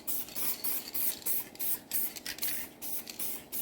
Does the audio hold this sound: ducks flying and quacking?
no